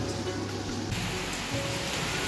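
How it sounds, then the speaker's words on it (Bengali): Heavy rain pours down outdoors, a dense, continuous hiss and patter on surfaces that stays loud and steady throughout, with no voices. "বৃষ্টি যে একদম আস্তে পড়ছে তা না, বেশ ভালো জোরে পড়ছে।"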